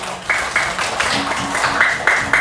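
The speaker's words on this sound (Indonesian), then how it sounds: "Oke, tepuk tangan dulu kita semuanya." Children in a second-grade classroom clap together in a brief round of rhythmic applause, close and lively, with a few voices mixed in.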